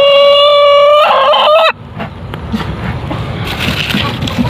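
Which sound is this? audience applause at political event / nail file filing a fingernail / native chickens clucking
native chickens clucking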